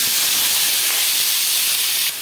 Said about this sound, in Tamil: வெங்காய தக்காளி போட்டு நல்லா வதக்கிக்கலாம்